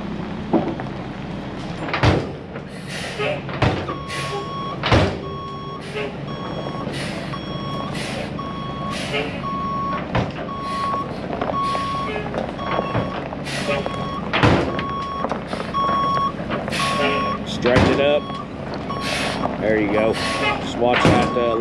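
A truck reverses out of a farm driveway, its reversing alarm beeping steadily over engine rumble. Repeated sharp knocks and clanks of equipment sound nearby, and people talk at intervals.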